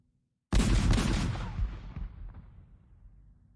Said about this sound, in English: You get 2 cannon salute today